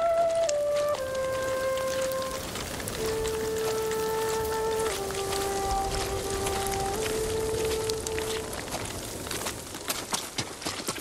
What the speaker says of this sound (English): The rain won't stop.